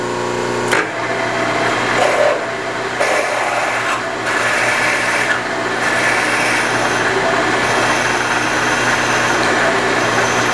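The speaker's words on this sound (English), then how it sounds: "again with this drill, I'm just going to use the handle" A hand drill with a tap handle bores dry into metal, giving a continuous grinding, scraping rasp with slight fluctuations in intensity, close and steady throughout.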